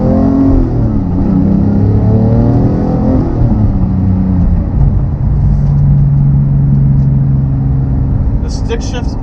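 A 2018 Porsche 911 GT3 (991.2) with a manual gearbox, its engine given a little gas; a loud, close, sustained engine drone with rising and falling tones early on, then a steadier hum, with a brief bright click near the end.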